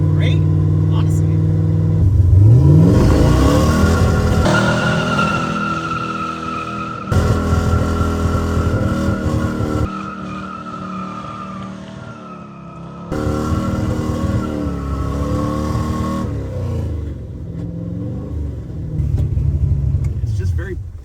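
A supercharged Hellcat LS-powered tow truck on its first test drive: the engine swells and falls through several rising pulls, loud and near, with brief lulls between, while people talk inside the cab.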